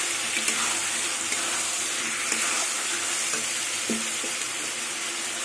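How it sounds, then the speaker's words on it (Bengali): Fried potatoes being sautéed in spiced oil for a bhetki fish curry make a dense, continuous hiss close up, with a few soft scraping knocks from stirring, and no voices. "এবার ভাজা আলু দিয়ে কিছুক্ষণ কষিয়ে নেবো।"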